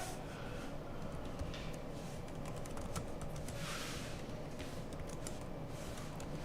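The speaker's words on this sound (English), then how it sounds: "listen to my typing skills." Rapid typing on a computer keyboard, a quiet, irregular patter of key clicks over a faint steady background, fairly close but low in level.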